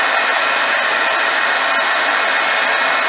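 A heat embossing gun blows a loud, steady hiss of hot air as it melts embossing powder, continuous and close with no voices.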